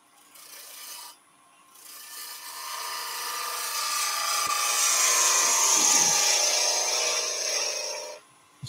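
Wood on a lathe as a tool cleans up the bottom of a turned Christmas centrepiece, a steady broadband scraping hiss that rises after a brief pause and holds for several seconds before stopping abruptly.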